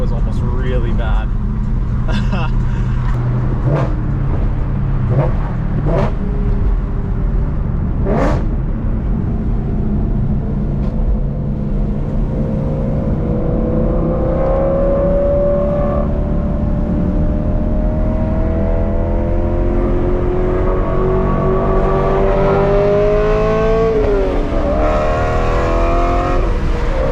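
A BMW E92 M3 engine pulls hard while driving, a loud sustained drone that climbs steadily in pitch through the gears, with road and wind noise underneath and sharp clicks early on.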